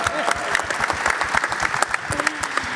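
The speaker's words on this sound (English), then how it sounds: "so a big clap for Sivan for sleeping last night." An audience at a Board of Supervisors breakfast event claps in a dense, close burst of applause that lasts a few seconds.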